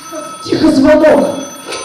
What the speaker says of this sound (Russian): Тихо, звонок!